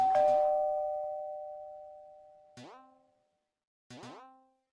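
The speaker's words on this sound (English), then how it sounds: "Ignore doorbell." A doorbell rings three times, each chime decaying slowly, with the first tone ringing long before two shorter strikes follow after pauses, clear and alone with no talk.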